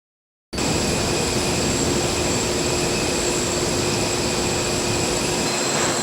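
Airplanes fly and bank first one way and then the other, a steady, loud, close engine roar that starts abruptly after a brief silence and holds constant.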